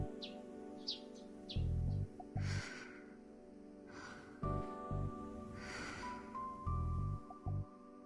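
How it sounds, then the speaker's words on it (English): Sparrows chirp in the Chaos;Child video game, a few short, bright tweets early on, set against soft, rhythmic snoring breaths and a quiet ambient tone. "I met the morning with the sound of chirping sparrows and the quiet snoring of a girl."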